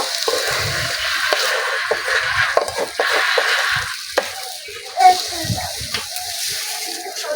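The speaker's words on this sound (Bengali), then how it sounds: "টক দইটা দিয়ে দেবো ভালো করে ভেজে নেব" Masala with sour yogurt fries in a pan for a paneer dish, a steady close hiss with scattered stirring scrapes and a brief louder clatter near the middle.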